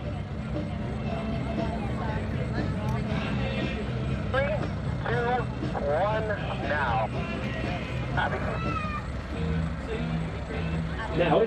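A steady propeller engine of an aerobatic airplane climbing at an air show drones continuously, holding a low throbbing tone while someone talks over it throughout.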